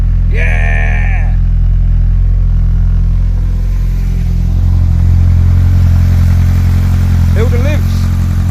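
A Hillman Imp's engine idles steadily after a cold start on choke, a loud continuous low rumble close by, with brief voices at the start and again near the end.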